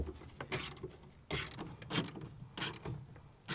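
Tightening brackets of a Worksport SC4 Pro soft folding tonneau cover on a Chevy Silverado: a series of short, close ratcheting clicks in irregular bursts with brief pauses between turns.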